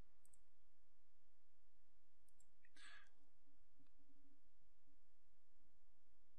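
A single computer mouse click on a software button, a brief sharp tick near the middle of an otherwise quiet stretch.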